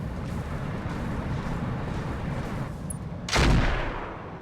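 Mech weapons fire in the Battletech (Roguetech mod) video game: a low background rumble of battle, then a single loud, booming shot bursts in near the end and fades into a rumbling tail.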